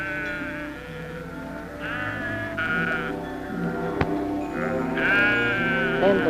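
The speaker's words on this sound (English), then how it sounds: "and the sheep cried again." Several sheep bleat in turn, wavering cries overlapping, some near and some farther off, with a sharp knock partway through.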